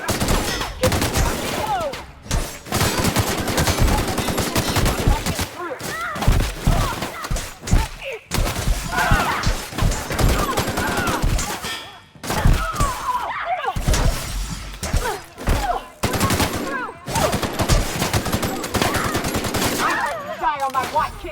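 Gunfire in The Outer Worlds video game, a rapid, loud run of shots and bursts with brief pauses, close and punchy, with voices shouting now and then among the shooting.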